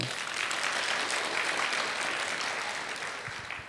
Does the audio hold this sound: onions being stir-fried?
no